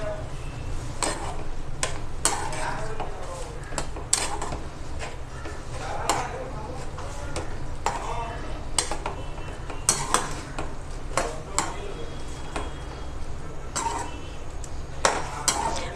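Cloves and cardamom are stirred in a hot cooking pan, with a steady stream of metallic scrapes and clinks from the spatula over a faint sizzle, close by and fairly regular throughout.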